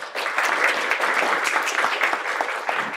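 An audience at a college admissions information session applauds to welcome a professor to the stage, brisk steady clapping from a sizeable crowd filling the short moment.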